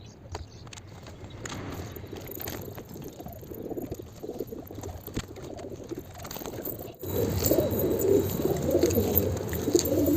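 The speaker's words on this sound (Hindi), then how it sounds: "मैंने मेरे सारे कबूतर को निकाल दिया है और अभी मैं इनको घूमने दूंगा। और ये जंगली कबूतर भी आते रहते हैं" Pigeons, domestic birds let out among wild ones including a black wild pigeon, coo softly amid rustling and scraping in a yard; the cooing is low and muffled, and the background grows louder partway through.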